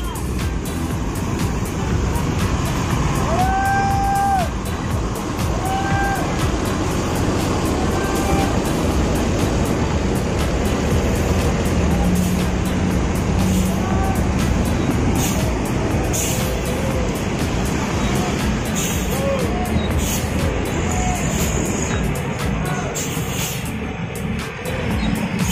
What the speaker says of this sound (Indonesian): Jadi armadanya mau diparkir dulu